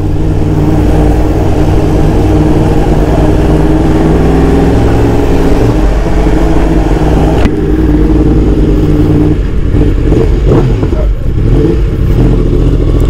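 A 2020 Yamaha R1 sport bike with a cross-plane crank runs loud and close, a rough, throbbing engine note that holds steady, then changes character halfway through with uneven revving pulses.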